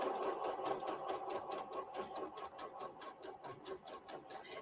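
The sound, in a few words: sewing machine stitching quilt block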